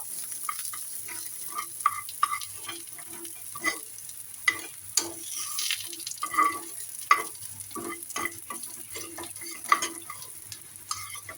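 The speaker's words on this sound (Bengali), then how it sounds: "পেঁয়াজ রসুনগুলো আমার ভাজা ভাজা হয়ে গিয়েছে" Onions and garlic frying in a pan: a steady sizzle, with frequent scraping and clinking of a spoon stirring against the metal over roughly eleven seconds, close and moderately loud, no voices.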